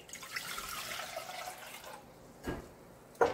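Three cups of water are poured for sorbet simple syrup, a running splashing stream that pauses and resumes, ending with a brief clink.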